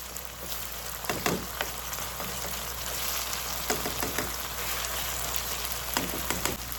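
Saltfish and vegetables for Jamaican ackee and saltfish frying in a pan, giving a steady close sizzle with scattered crackles and pops and no talk.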